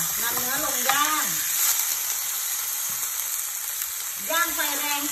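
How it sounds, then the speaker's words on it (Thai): Beef searing in a pan with a little oil over the highest heat, giving a steady, loud sizzling hiss throughout, while a voice speaks briefly at the start and again near the end. "ใส่น้ำมันเล็กน้อยค่ะนำเนื้อลงย่าง"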